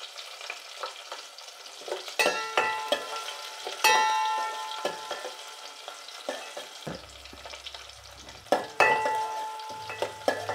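Onions fry in a pan for Nellore-style sambar, sizzling steadily while a spoon stirs, scrapes and clinks against the metal pan in irregular bursts, close and alone with no talk.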